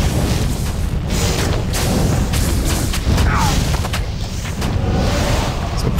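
A Fire Druid's Armageddon spell in Diablo 2 rains down continuous deep booming explosions, dense overlapping impacts rumbling loudly without pause, with faint game sounds underneath.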